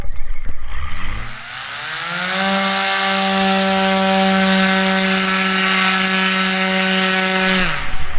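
A paramotor engine starts and runs at a steady, loud drone with strong harmonic tones for several seconds, then cuts off near the end, with no talking.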